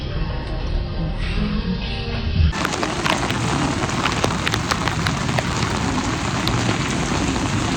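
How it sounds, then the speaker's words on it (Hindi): Steady rain falls outside a shop in Korea, a constant close hiss of drops on hard surfaces that grows fuller and louder partway through, with scattered heavier splats. "बाहर बारिश हो रही है"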